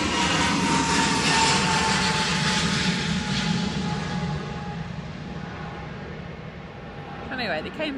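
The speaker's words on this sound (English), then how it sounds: "British Airways heading back down to Heathrow." Broadband roar of airliner jet engines at Manchester Airport in storm crosswinds, a British Airways A321neo, loud and steady then gradually fading, with a brief rise near the end.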